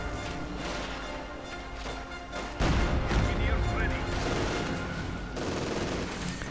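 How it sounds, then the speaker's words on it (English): Sustained MG42 machine gun bursts and battle explosions in the strategy game Company of Heroes 2, dense rapid rattling that thickens midway into heavier crashing fire, with a commentator's voice running underneath. "a bit of MG42 fire up their arse as they retreat"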